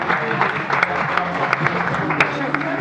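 Applause from a crowd at a shooting competition results announcement, a steady patter of clapping hands lasting a few seconds with a voice speaking over it.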